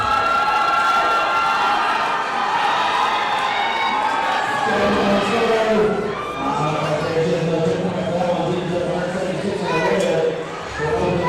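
Cheer squad at a powerlifting meet, the USPA National Championships, loudly cheering and shouting for a lifter, a dense crowd roar that carries steadily throughout with voices mixed in.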